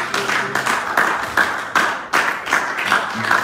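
A church congregation clapping in praise of the Lord, a loud, steady rhythm of group hand claps close by, with faint voices underneath.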